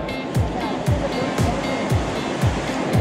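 Steady broadband rush of the Güejar River flowing, close and continuous, with faint periodic low thumps underneath.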